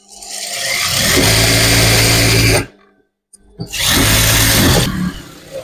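A sewing machine running fast while stitching a fish design on a petticoat, in two loud sustained motor bursts separated by a short pause, each starting and stopping abruptly.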